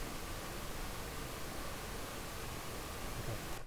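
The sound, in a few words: pink noise generated in SuperCollider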